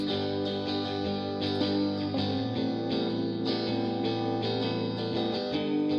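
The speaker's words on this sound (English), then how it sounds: "So we've got this like echo guitar that's playing in the background." Echo-drenched electric guitar riff played through a Logic amp and pedal board, sustained and washing continuously with repeating delayed notes, heard alone without voices.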